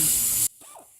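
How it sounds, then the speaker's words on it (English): An air ratchet wrench on a 1996 Lexus LS400 during an alternator replacement gives a loud burst of pneumatic hiss for about half a second, then cuts off abruptly into near silence. "air ratchet wrench."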